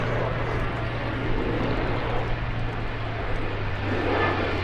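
An A-10 Thunderbolt II jet flies at an airshow, a steady, loud engine roar that holds constant throughout with a low droning hum beneath it.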